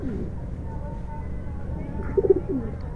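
Soft, low cooing from a handled Giribaz pigeon with clipped wings, a brief burst near the end over a steady low background hum.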